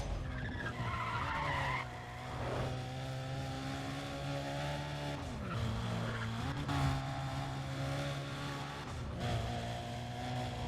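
Car engines whine and tires screech in Need for Speed: Undercover on PS3, with sustained skidding tones, shifting engine pitch and a couple of abrupt changes suggesting an impact, all fairly faint.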